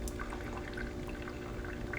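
Gentle stream of distilled water rinsing both sides of a blood smear slide, a soft, steady trickling and pouring hiss that stays even and faint throughout.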